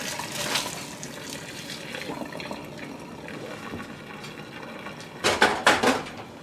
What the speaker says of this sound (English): So the noodles I'm going to put right into the strainer now.